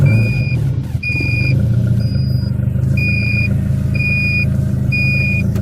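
A turbocharged Honda Civic D16Z6 engine runs at a steady, loud idle, with a rhythmic electronic beep sounding about once per second over the engine drone.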